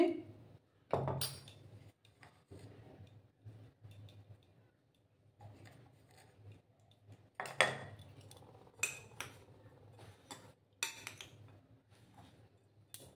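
Cabbage pakora batter is mixed by hand in a bowl, giving scattered soft clinks and knocks against the bowl with quiet gaps in between.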